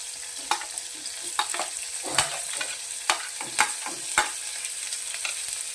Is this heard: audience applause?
no